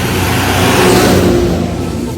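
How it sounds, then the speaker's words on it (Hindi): A tractor speeds along a road, its engine loud and close with a steady revving drone, and a voice seems to sound faintly beneath it. "देखो ट्रैक्टर कितना तेज जा रहा है"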